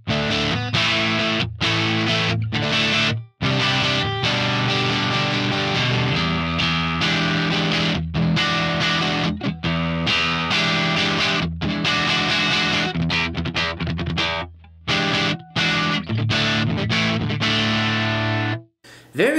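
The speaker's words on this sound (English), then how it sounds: "Very smooth sounding, a very light, type of distortion" Electric guitar through an Axe-Fx III Hook Capt 34 amp model with no drive pedal, lightly distorted, playing chords and riffs with brief pauses, smooth and full with a soft overdriven edge.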